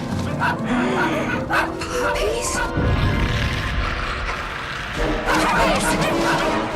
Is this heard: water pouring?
no